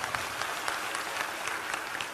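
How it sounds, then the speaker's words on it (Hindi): Audience clapping at a religious discourse, dense and continuous with scattered sharper claps, steady in level throughout. "पहले नंबर तो इन्हें ताली बजा के धन्यवाद दो"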